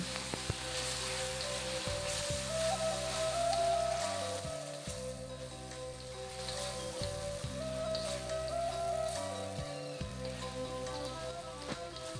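Ground chili paste sizzles and crackles steadily in a hot pan, a dense rain-like frying hiss with occasional stirring clatter, close and continuous without speech.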